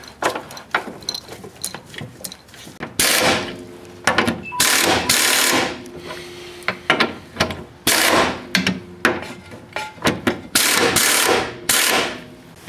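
Trailing arm bushing bolts being tightened with a ratchet or impact tool on a car suspension, a series of loud, sharp mechanical bursts and clicks in irregular rhythm, close up, with no talking.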